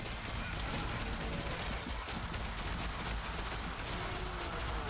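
Assault rifle fire in the zombie survival game Yet Another Zombie Survivors blends into a dense, continuous barrage of rapid shots and crashing impacts, loud and unbroken throughout.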